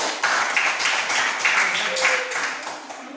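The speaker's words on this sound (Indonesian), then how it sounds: "tepuk tangan buat kelompok 3" Students in an Indonesian classroom clap for a group of classmates, a short burst of steady hand clapping that is fairly loud and close, with voices talking over it.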